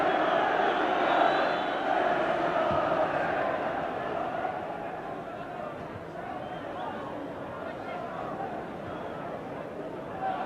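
A large football stadium crowd at a Manchester United versus Liverpool match, a steady roaring hubbub of thousands of voices with no sharp peaks, with a commentator speaking over it throughout.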